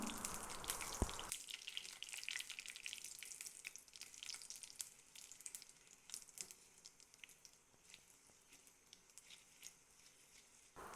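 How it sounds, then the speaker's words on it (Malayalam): Dried red chillies fry in coconut oil, a faint crackling sizzle with tiny irregular pops, louder for the first second and then settling into a soft steady frying patter, no speech. "ഒരു ഒന്നര ടേബിൾ സ്പൂൺ വെളിച്ചെണ്ണയ്ക്ക് ഞാൻ നാലഞ്ച് വറ്റൽമുളക് ഇട്ട് കൊടുത്തിട്ടുണ്ട് ഇത് നമുക്ക് നന്നായിട്ടൊന്ന് വഴറ്റിയെടുക്കാം"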